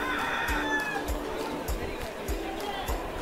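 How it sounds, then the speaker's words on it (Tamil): Roosters and country chickens at a busy Sunday pet and poultry market in Chennai: faint clucks and crowing blend into a crowded din of voices and steady low thumps, with people talking nearby throughout. "இதெல்லாம் வந்து நார்மல் நாட்டுக்கோழிங்க."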